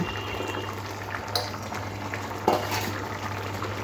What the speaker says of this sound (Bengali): জলটা ফুটে উঠেছে